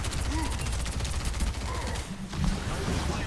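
Rapid bursts of gunfire in the video game Overwatch 2, fairly quiet and crackling under background game music and effects, with a voice briefly heard.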